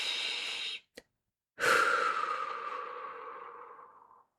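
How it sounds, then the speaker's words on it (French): Slow breaths during a guided breathing exercise: a short inhale, a brief pause with a faint catch, then a long, gradually fading exhale, close and intimate with no talk over it. "Prends une respiration lente, puis expire doucement."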